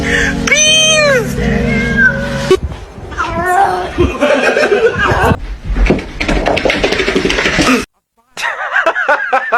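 A black cat meows loudly and repeatedly up close, drawn-out wavering cries mixed with people talking and laughing nearby, with a short silent gap near the end.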